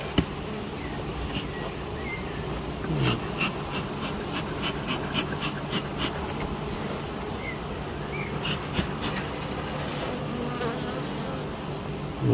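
Honey bees hum steadily in a dense, close swarm over an opened polystyrene beehive in an apiary, with brief louder passes as individual bees fly near.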